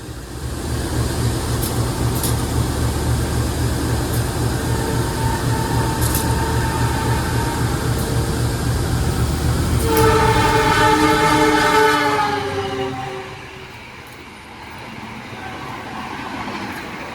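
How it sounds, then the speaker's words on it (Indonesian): The Sancaka express train rumbles loudly past a level crossing with a steady rolling roar of wheels on rails. Its horn blasts in a rising chord near the end, and then the noise falls away as the train moves off. "Sepertinya sebentar lagi akan melintas kereta api Sancaka."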